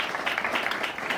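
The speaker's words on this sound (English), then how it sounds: "Let's give them one more round of applause." A crowd applauding steadily, a dense wash of clapping with no voices, continuous through the short stretch.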